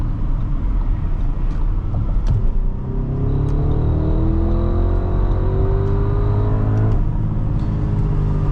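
A 2025 Audi SQ7 4.0T Prestige accelerating from inside the cabin, engine note rising steadily in pitch over several seconds under a constant road rumble, no talking.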